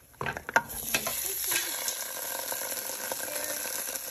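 Browned garlic and curry fry in a pot with a bright, busy sizzle after a few sharp clatters at the start, then a steady hiss close by and no talk.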